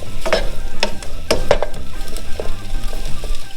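Sausage browning in a dry pan with no added oil over medium-high heat for jambalaya, giving a steady close sizzle with scattered crackles and scraping stir sounds throughout, no voices.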